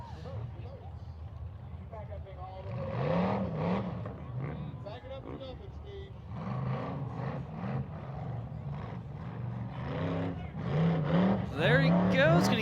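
A race vehicle launches onto a competition course, its engine revving in rising and falling sweeps that climb louder toward the end, with a commentator's voice running over it.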